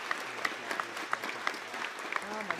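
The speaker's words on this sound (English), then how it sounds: "Please give the seniors a round of applause." Scattered, moderately loud claps from a concert audience at a high school spring band concert, greeting the senior band members with an irregular rhythm of sharp hand strikes over a faint crowd murmur.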